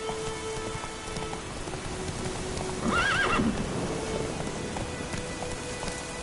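Roach, Geralt's horse in The Witcher 3, moves through steady rain with a constant hiss of drops, and a brief whinny rises mid-clip over the soft patter and faint hoof clatter.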